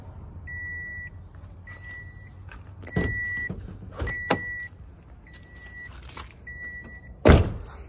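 Automatic power windows on a 2012 Toyota Camry with 360,000 km whir up and down in a series of short motor runs, each ending in a clunk, with a few louder thumps in between.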